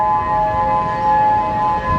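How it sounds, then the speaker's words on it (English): A loud outdoor warning siren in Hawaii sounds a steady, sustained multi-tone wail that holds throughout without a break. "Okay, so these sirens are just going off again. They sound like the hurricane sirens"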